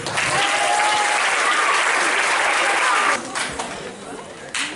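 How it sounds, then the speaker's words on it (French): A school crowd applauds a teacher at an end-of-year party, loud sustained clapping that fades after about three seconds into scattered claps, with a few voices underneath. "Et applaudissez-la s'il vous plaît"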